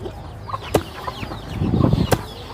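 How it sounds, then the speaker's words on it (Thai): Chickens cluck in a rural Thai farmyard pen, short irregular calls near and far with a few sharper squawks and some rustling, building to a busier cluster of clucks toward the end. "ไก่อยู่ในคอก"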